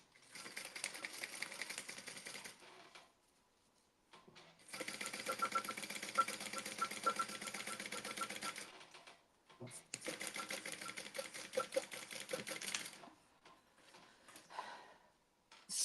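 A sewing machine runs close by in three bursts of rapid, even needle clatter as it stitches a seam on a contrasting fabric strip, with brief quiet pauses between runs.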